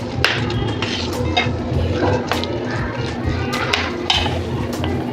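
A spoon mixes a rava and potato snack batter in a bowl, with steady soft scraping and occasional clinks against the rim, close and moderately loud. Faint voices are in the background.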